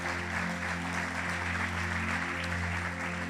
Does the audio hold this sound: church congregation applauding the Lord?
yes